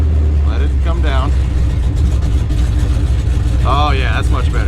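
A 1962 Chevy with a big-block engine idles high and steady, a low rumbling drone throughout while someone talks over it at the start and end.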